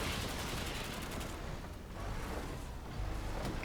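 Gunfire from behind in the video game Armor Attack, a dense, muffled rattle of rapid shots that briefly thins and then picks up again, heard faintly and at a distance.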